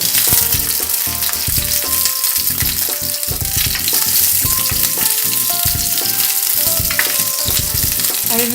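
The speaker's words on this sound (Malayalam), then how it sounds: "അതിന് ശേഷം നെല്ലിക്ക ഒന്ന് വഴറ്റിയെടുക്കുക." Washed and dried gooseberries (amla) sauté in a pan for pickle, a loud continuous sizzle broken by frequent close scraping and stirring knocks of a spoon against the pan.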